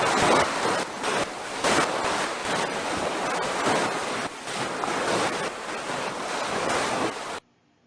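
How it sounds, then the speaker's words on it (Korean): Synthesized ocean waves with foam, built from a bubble simulation: a steady, dense broadband wash of surf with surging swells, loud and continuous for about seven seconds before cutting off abruptly. "거품 입자의 정보를 통하여 적합한 파도 소리를 찾아 합성했다"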